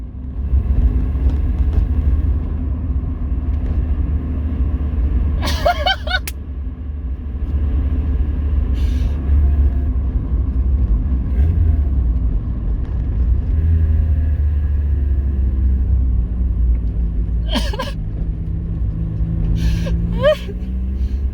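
A freshly rebuilt car engine runs on its first start, giving a steady, loud low rumble throughout, with a few brief excited vocal sounds over it.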